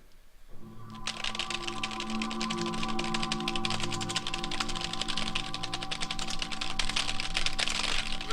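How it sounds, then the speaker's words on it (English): Someone types steadily and rapidly on a computer keyboard, a dense stream of close, crisp key clicks that begins abruptly after a brief low hum and continues without pause, no speech. "I'm typing like a mofo!"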